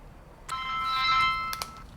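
An electronic ringtone sounds on a film set: a bright, sustained chime about one second long that starts abruptly, holds steady and cuts off, with no talking over it.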